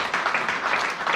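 A church congregation applauding during a sermon on happiness, a steady dense wash of clapping that holds at an even level for the whole moment with no voices on top.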